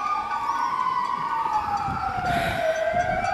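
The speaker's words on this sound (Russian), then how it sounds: "Ездит полиция, там скорой помощи." Police and ambulance sirens wailing on nearby city streets in Spain, a steady rising and falling tone that stays continuous and moderately loud, heard from a short distance with no talking.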